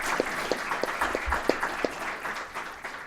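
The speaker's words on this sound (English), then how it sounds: "I'd like us all to offer a warm round of applause to our panelists today." Audience applause for panelists at a panel event on corruption and democracy in Nigeria, sounding as a moderate, steady patter of clapping with a few sharper individual claps standing out, no talk over it.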